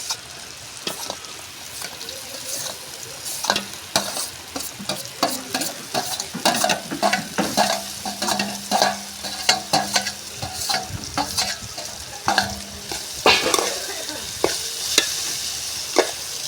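Small shrimp (mettalu) sizzle and crackle steadily in a hot pan, with repeated scrapes and clinks of a spoon stirring them throughout, close and fairly loud, no talking.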